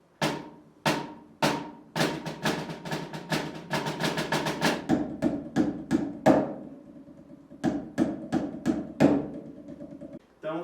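Drumsticks struck on a soft rubber or EVA practice pad, giving sharp, close, dry taps in quick irregular strokes and short rolls, with brief pauses between bursts.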